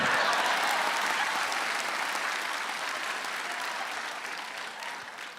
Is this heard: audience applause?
yes